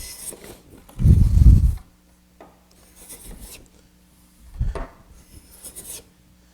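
A hand plane flattening a wooden board pulls off thin, wispy shavings in two short rasping strokes, the first longer and louder, separated by quiet with faint workshop scuffs between.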